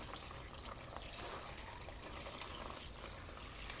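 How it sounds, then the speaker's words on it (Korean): Tap water runs steadily over freshly boiled squid in a kitchen sink, a continuous close splashing rush with no voices. "건져낸 오징어를 씻는 게 아니고 흐르는 물에 살짝 식혀준다는 느낌으로"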